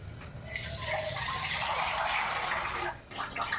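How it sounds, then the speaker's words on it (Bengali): Water pours into a cooking pot holding broken wheat with chillies and salt, a steady close gushing splash lasting a few seconds before a brief pause and a last trickle, with no talk. "দিয়ে একটু জল দিয়ে দেবো, আর কাঁচা লঙ্কা আর নুন দিয়ে দেবো।"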